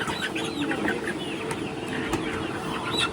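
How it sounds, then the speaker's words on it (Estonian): Newly acquired chickens cluck and chatter continuously close by, with several overlapping birds producing soft, irregular clucks throughout. "Uued kanad on olemas, nii et very happy."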